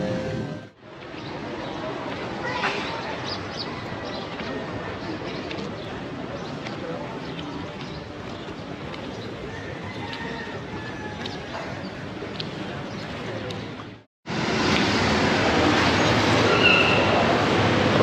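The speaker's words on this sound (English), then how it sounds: "hello from the Saigon train station" Ambience inside the Saigon train station in Vietnam, a steady broadband wash of crowd murmur and station noise with scattered clanks, briefly cutting out before a louder, brighter stretch near the end.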